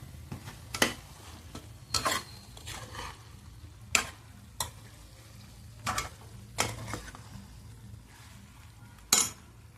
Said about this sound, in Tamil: போட்டு ஒரு நான் கிண்டிக்கிறேன். நான் நல்லா கிண்டி விடணும்.